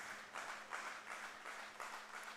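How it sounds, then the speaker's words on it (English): London Majors fans at an IBL playoff baseball game clap in a steady rhythmic beat, quiet and distant, with faint crowd noise around the claps. "Majors fans trying to cheer along Perrier here."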